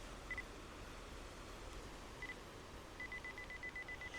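A camera on a two-second self-timer gives a faint high beep, then another, and finally a quick run of rapid beeps before the shutter, all quiet against a soft outdoor hiss near a windmill.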